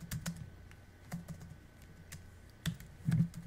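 Quiet computer keyboard typing with soft, irregular key taps and a few louder thumps, close by over a faint background hum.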